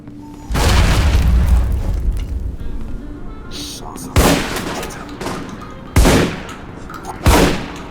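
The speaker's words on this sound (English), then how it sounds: "Grenade out." Grenade blasts in the PC game Alpha Protocol, a heavy booming explosion followed by three more sharp loud bangs spaced a second or so apart, with gunfire-like crackle between them.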